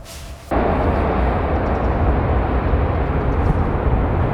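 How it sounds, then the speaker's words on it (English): A loud, steady roar of a train rushing past nearby near the Seto Bridge, starting abruptly and holding constant rumbling noise throughout. "Well, that was the train."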